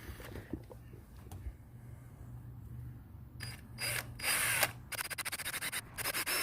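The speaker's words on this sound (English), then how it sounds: "And now it's time to drill." A power drill bores into a go-kart part that has been marked and oiled. After a quiet start it comes in as short loud whirring bursts, then rapid stuttering pulses close by, with faint handling noise before.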